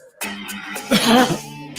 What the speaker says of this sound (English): do you have a cough due to cold?